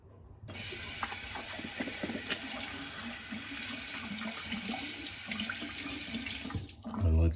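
Tap water runs steadily from a bathroom faucet for several seconds to thin shaving lather, a continuous close splashing hiss that cuts off near the end.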